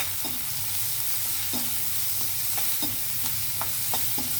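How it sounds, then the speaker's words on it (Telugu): Onions frying in a pan with turmeric and salt give a steady close sizzle, broken by a handful of short scraping stirs spread at irregular intervals. No one speaks. "ఉల్లిపాయలు వేగేటప్పుడే నేను కొద్దిగా పసుపు వేస్తున్నాను"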